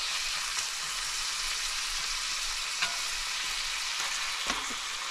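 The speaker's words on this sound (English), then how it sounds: "And onions cooking in that burger grease" Onions and burger patties fry in hot grease for patty melts, giving a steady, close, dense sizzle with a few small pops and crackles throughout.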